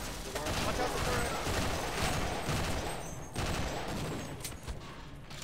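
Automated turret firing in co-op Half-Life, a dense, rapid stream of shots forming a continuous loud clatter with brief lulls, and voices talking over it.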